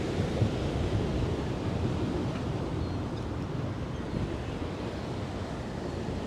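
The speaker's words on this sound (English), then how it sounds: "it's windy out here." Steady wind buffeting outdoors on the beach at Coney Island, New York City, with a low rumbling roar, constant and fairly loud, no talking.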